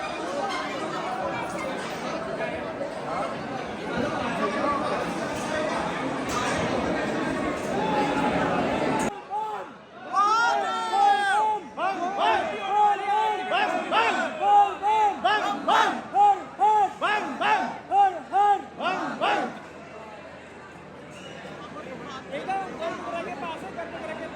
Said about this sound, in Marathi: आरतीला फुल गर्दी झालेली आहे बघू शकता.